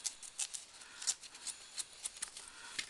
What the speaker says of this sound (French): ces ciseaux qui m'énervent, qui coupent rien